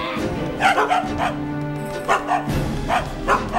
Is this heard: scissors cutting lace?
no